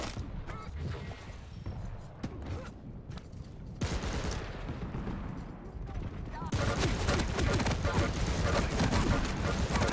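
Rapid nail gun fire and other weapons in a Quake Champions 2v2 match, a dense continuous barrage that grows louder and busier, with a commentator talking over it.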